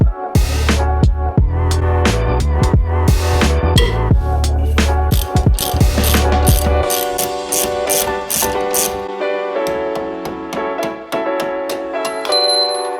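Ratcheting clicks from a wrench loosening the brake caliper and rotor bolts on a car's front axle assembly, greasy with spilled axle grease, in rapid close bursts with clattering metal tool sounds and a steady mechanical drone.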